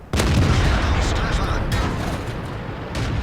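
A T-34 tank cannon firing in World of Tanks, a heavy booming blast that opens sharply and rolls into a long, loud rumbling tail with further muffled impacts.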